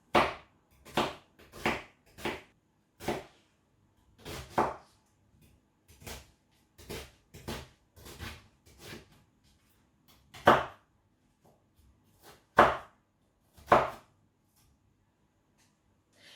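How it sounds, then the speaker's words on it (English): A knife chops a red onion on a cutting board in a home kitchen, sharp close taps arriving in irregular bursts and single strokes with short pauses between, no one speaking. "let us start cutting this onion"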